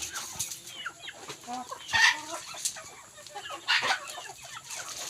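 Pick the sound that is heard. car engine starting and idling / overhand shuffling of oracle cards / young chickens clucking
young chickens clucking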